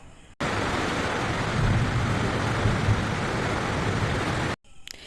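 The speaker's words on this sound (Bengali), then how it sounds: "হঠাৎই দেখি ঝড় বৃষ্টি সব একসাথেই স্টার্ট হয়ে গেছে" Heavy, steady rain pours down with a deep thunder rumble throughout, the downpour loud and close, cutting in and out abruptly at the edges.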